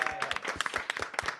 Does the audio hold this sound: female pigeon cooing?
no